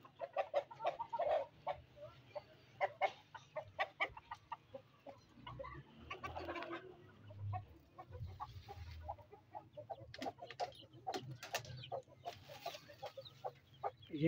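Gold partridge Brahma chickens cluck and chirp close by, a mix of hen clucks and small chick peeps in uneven bursts, with no talking.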